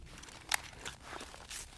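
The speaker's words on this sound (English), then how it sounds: "Смена магазина." Soft mechanical clicks and a sharp metallic clack as a weapon magazine is swapped during a reload in the shooter Stalker GAMMA, quiet and isolated over a low background hush.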